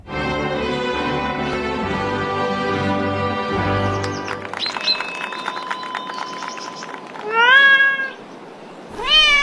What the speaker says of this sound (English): exclusive audio of Max accepting the honor at graduation as interpreted through a cat translator